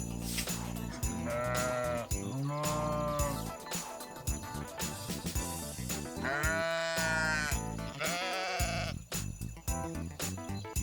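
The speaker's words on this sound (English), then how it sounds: "That's a lot of sheep, isn't it?" A crowded flock of sheep bleats loudly and continuously, many overlapping drawn-out cries close by with no pauses between them.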